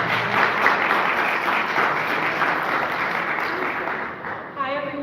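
Audience at a candidates' forum applauding a city controller candidate, a steady wash of many hands clapping that fades toward the end, followed by a brief voice close to the microphone.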